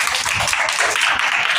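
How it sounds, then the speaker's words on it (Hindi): An audience at a Hindi spiritual talk applauds a participant with loud, dense, steady clapping that holds evenly throughout, with no voices over it. "जोरदार तालियां इनके लिए"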